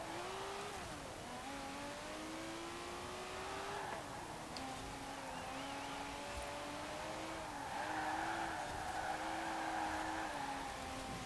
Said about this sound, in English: Certainly a lot easier to get the rear end sliding around, possibly because of all that extra power.